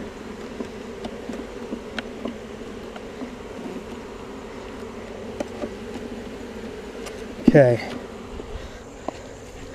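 Honeybees drone loudly and steadily in a queenless hive box as frames are moved during an inspection, a dense close hum with clicks and knocks of handling, a brief scraping thump near the end and a short spoken word.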